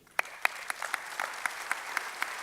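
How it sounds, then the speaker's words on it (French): Applause at a general assembly as a guest is called up, sparse, separate hand claps at a steady rhythm, moderately distant and fairly faint in a large room. "Vous pouvez l'applaudir."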